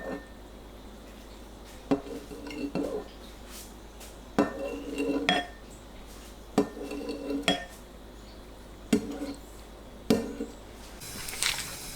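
Soft tofu, about 500 g, halved in a bowl and sliced into 1 to 1.5 cm pieces for sundubu-jjigae, giving a run of light utensil taps and clinks against the dish at an irregular pace, close and moderately loud.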